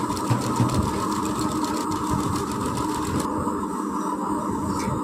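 A sewing machine runs continuously, a steady whirring mechanical drone as it stitches a frock yoke, the needle's rapid chatter fading slightly toward the end; no talking.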